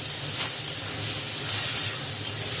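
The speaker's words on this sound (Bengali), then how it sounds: "এবার অল্প একটু জল দিয়ে নাড়বো" A splash of water hits dry spices frying in a pan for an ilish fish head and snake gourd curry, a loud, steady steaming hiss and sizzle that lasts the whole moment.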